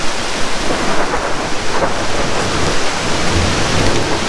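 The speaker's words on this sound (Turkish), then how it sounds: "Yerde gördüğünüz kar değil, dolu." Hailstones fall during a hailstorm in Ankara, making a dense, continuous pattering roar that stays loud and close throughout, with no voices.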